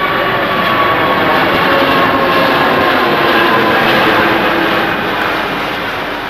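Airbus A380 airliner passing overhead on its second test flight near the runways, a loud, steady broadband roar of jet engines that holds throughout and eases slightly toward the end, with no voices.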